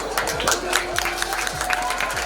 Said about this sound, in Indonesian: Tepuk tangan Pak beliau